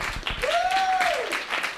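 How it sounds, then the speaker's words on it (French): Conference audience at a music festival event applauding, a brief burst of clapping mixed with a sustained tonal cheer or whistle-like voice in the middle. "Oui, on l'applaudit!"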